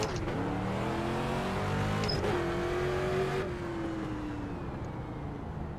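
A street stock race car in an iRacing game at Lanier National Speedway drones at steady engine pitch, with the tone shifting as the car slows under caution. The engine sound is alone.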